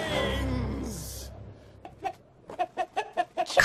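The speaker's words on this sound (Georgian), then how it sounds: "ქათმები ვერ დაფრინავენ." Domestic chickens cluck in a quick run of short, close, rhythmic clucks after a brief noisy start and a quiet gap.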